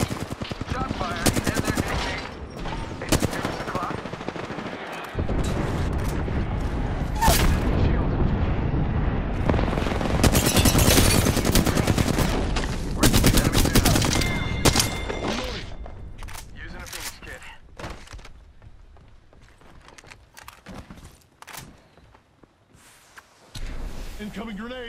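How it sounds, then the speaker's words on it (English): Gunfire in Apex Legends, rapid bursts of automatic weapon fire and sharp shots in clusters, loud and close, with explosive blasts, brief pauses between exchanges and some game voice callouts mixed in. "Shot fired."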